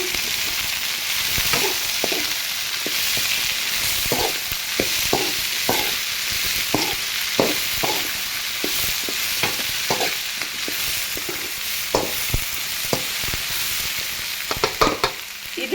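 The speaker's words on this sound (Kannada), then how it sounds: "ಹುರಿದಿಟ್ಟಿರೋ ಅಂತಹ ಜವಳಿಕಾಯಿ ಹಾಗೆ ಬೀನ್ಸ್ನ ಇದಕ್ಕೆ ಸೇರಿಸೋಣ. ಸೇರಿಸ್ಬಿಟ್ಟು ಮಿಕ್ಸ್ ಮಾಡಿ" Fried cluster beans and green beans are mixed in a pan, with close, loud sizzling and a brisk run of spatula scrapes and clanks repeating unevenly throughout.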